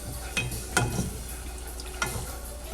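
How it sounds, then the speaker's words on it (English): A spoon stirs milk into mac and cheese sauce in a pot, giving a few faint scrapes and light clinks over a quiet background. "Keep mixing, don't stop mixing."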